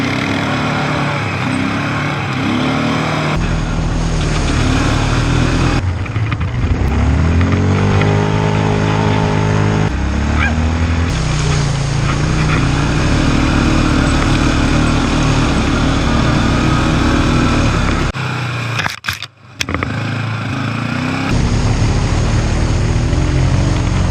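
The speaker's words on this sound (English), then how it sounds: "he takes you to a part of the jungle where you have free reign to just go crazy with your quad bike." Quad bike tearing through jungle tracks in Rarotonga, its loud engine droning and revving up and down throughout at close range, with one brief dip near the end.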